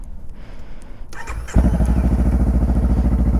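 A motorcycle in neutral starts up after a short cranking whir, then settles into a loud, steady, rhythmic idle close by.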